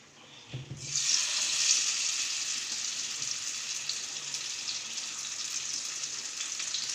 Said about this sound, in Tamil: இப்போ வந்து மீன் ஃப்ரை பண்ண போகிறோம்.